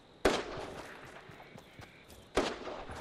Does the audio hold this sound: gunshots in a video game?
yes